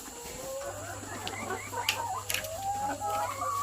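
Egg-laying hens in a coop with wooden perches cluck softly in short, scattered calls over a low steady hum, faint and somewhat distant.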